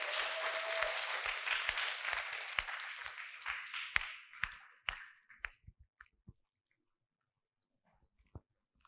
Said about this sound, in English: Let's give a huge round of applause for the management of this school